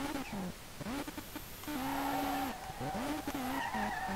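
Car drifting with clutch kicks in the SLRR video game, the 180SX engine surging and dropping in repeated revving swells mixed with squealing tires, loud and close.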